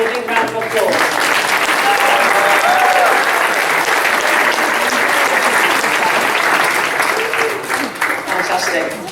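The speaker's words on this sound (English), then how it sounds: "Can we give him a big round of applause?" Loud, dense applause from an audience at a school awards ceremony, continuous clapping sustained for several seconds with a murmur of voices beneath it.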